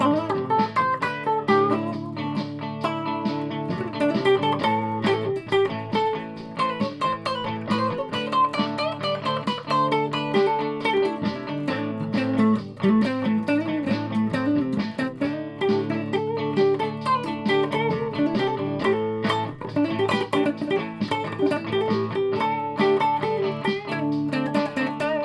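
A Godin LG electric guitar with P90 pickups plays with its volume rolled back slightly, giving a steady run of chords and notes with mild grit that continues throughout without talk.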